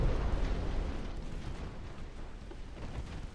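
Torpedo hits in the naval strategy game Ultimate Admiral Dreadnoughts, sounding as a loud, deep rumbling explosion that starts strong and slowly tails off into a sustained low roar.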